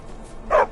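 A war dog in the video game Skyrim VR gives a single short, sharp bark that rises clearly above a quiet background.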